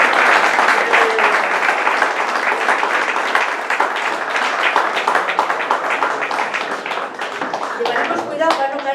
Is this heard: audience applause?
yes